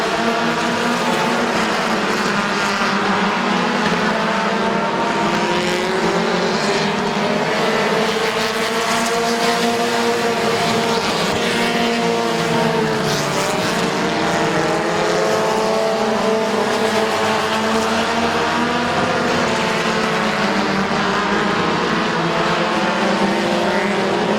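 Race cars circling Midvale Speedway, a steady loud pack roar of engines with overlapping droning tones rising and falling as cars pass, continuous throughout with no voices.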